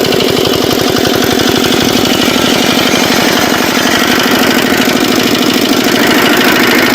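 A homemade nano tractor's small engine runs steadily nearby, with a fast, loud, knocking chug that stays even throughout and has no talk over it.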